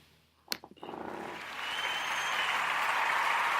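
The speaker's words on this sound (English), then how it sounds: "I think he deserves a round of applause." Crowd applause starting after a brief sharp clap, swelling into steady loud clapping from a podcast studio audience that keeps building to the end.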